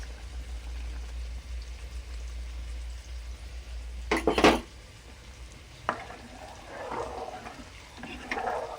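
A spoon stirs payesh, a rice pudding with milk, in a pot. A low steady hum fills the first half, then a short burst of scraping strokes and softer bubbling sloshes follow, close and moderately quiet.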